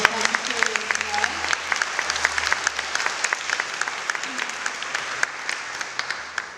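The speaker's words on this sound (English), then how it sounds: "Maybe one more round of applause for everybody who has addressed us here at Emmanuel." A crowd at an interfaith solidarity march gathering in Los Angeles gives a round of applause, dense sustained clapping with sharp individual claps throughout, fading slightly toward the end, with a voice briefly audible underneath.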